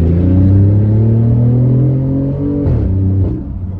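A BMW i8 Liberty Walk engine and exhaust revving up close and loud, a strong droning tone that holds steady, then dips and drops off toward the end.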